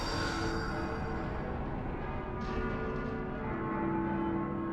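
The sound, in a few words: bells ringing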